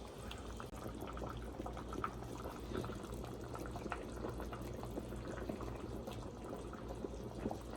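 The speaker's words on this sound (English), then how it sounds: "It is roaring away, girl. Boiling and boiling." A pot of tomato soup mixture boils vigorously on the stove, a continuous bubbling and roiling with small pops throughout, steady and close, with no talking.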